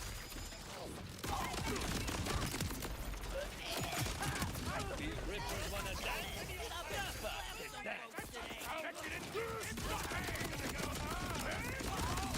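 Rocket launcher underbarrel firing in Borderlands, a dense barrage of loud gunfire bursts and explosive impacts layered over continuous game noise, with a voice talking over it.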